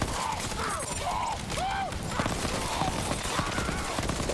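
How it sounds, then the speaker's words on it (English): An enemy fires a rocket launcher in Borderlands 3 during a prison break: several whooshing, rising projectile sweeps and bursts, fairly loud, stacked in quick succession over a constant combat rumble. "He's shooting me with a launcher and he manages to fire faster than the spin-up time"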